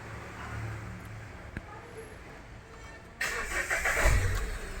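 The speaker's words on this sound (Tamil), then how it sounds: "ஸோ வண்டி பக்காவாக ஸ்டார்ட் ஆகிடுச்சு." A car engine cranks and catches after a battery jump start: a low idle hum, then a sudden louder burst as the engine fires and settles into a rough, rumbling run, with faint talk in the background.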